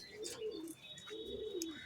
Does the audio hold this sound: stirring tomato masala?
no